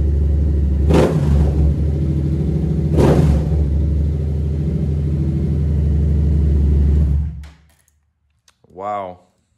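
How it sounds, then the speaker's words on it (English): A tuned 2015 Yamaha FZ-07 motorcycle engine runs with a loud, close rumble and snaps up in two sharp throttle blips before shutting off, followed by a short remark from a man. "Totally instant throttle, look."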